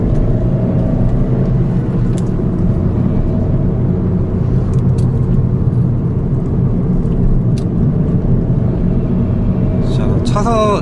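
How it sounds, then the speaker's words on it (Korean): A Chevrolet Aveo (Sonic) with a manual gearbox accelerates uphill to overtake on a winding road, a steady loud engine drone and road rumble throughout, with someone talking over it. "추월 한번 해보도록 하겠습니다."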